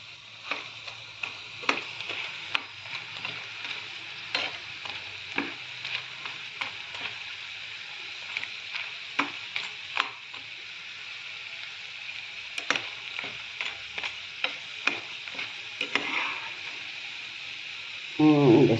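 Gobi 65 cauliflower pieces deep-frying in hot oil, a steady bubbling sizzle dotted with frequent small pops and crackles, close up, with a brief louder clatter at the very end and no talk.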